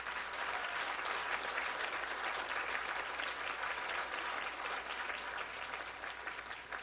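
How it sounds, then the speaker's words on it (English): A crowd applauds steadily, dense clapping that holds at an even level from start to finish with no voices standing out. "I need a real big applause for them."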